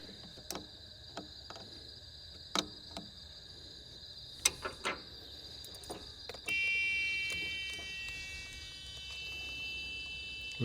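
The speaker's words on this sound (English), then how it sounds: "We've got a buzzer going off inside." A steady high-pitched electronic buzzer tone sounds continuously inside a Cummins-powered truck left sitting for years, joined by a second tone partway through, with occasional sharp clicks and taps nearby.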